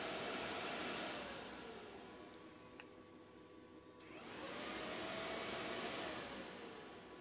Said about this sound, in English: you might be able to hear that the cooling fan is now running